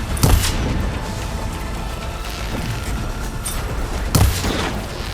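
Two heavy booming blasts ring out in Horizon Forbidden West, one near the start and another about four seconds later, over a constant rumble of combat noise.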